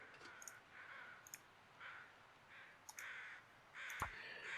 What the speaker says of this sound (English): I can hear crows.